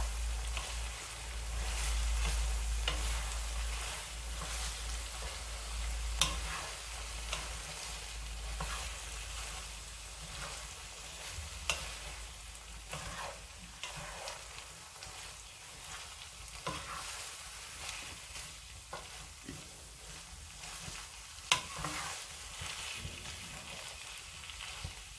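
Onions and minced meat sizzle and fry in a pan while being stirred together, a steady close crackle with occasional louder scraping clicks, no talking.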